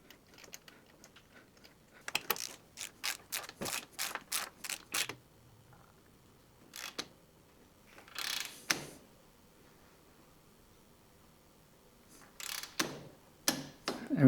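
Ratchet tightening a new spark plug on a John Deere S160 lawn mower, bursts of quick close clicking strokes separated by quiet pauses, a few scattered clunks of the tool between runs.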